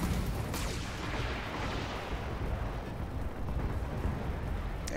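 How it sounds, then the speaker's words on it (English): Mech weapon fire from lasers and an SRM-6 missile rack in the game BattleTech, a dense continuous barrage of booming, crackling blasts and rumbling impacts, loud and unbroken throughout. "dropping the enemy Jenner with lasers and the SRM-6"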